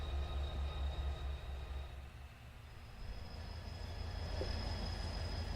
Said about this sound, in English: These are the Trona locomotives.